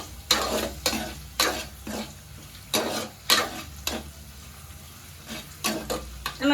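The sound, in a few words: crushed garlic and onions sautéing in a pan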